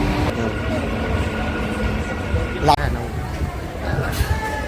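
A Katwa local train rumbles into a station with a steady low rolling drone, a brief metallic screech and clank partway through, close and loud, while people talk nearby.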